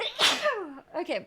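A single loud, close human sneeze, a sharp burst followed by a trailing exhale, then a brief spoken word.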